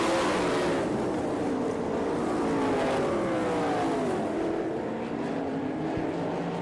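Sprint cars at an All Star Circuit of Champions dirt-track race roar past, several engines overlapping in a loud, continuous drone with pitch sweeping up and down as the cars pass.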